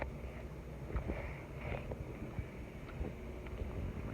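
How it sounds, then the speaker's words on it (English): Strong wind blowing outdoors on a stormy day, a steady low rumble of gusts buffeting the microphone throughout, fairly quiet overall with no one talking. "It's pretty windy, I do have to say."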